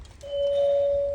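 A house doorbell sounds one sustained electronic tone after a brief lower note, clear and close in a quiet room, ringing evenly for about a second.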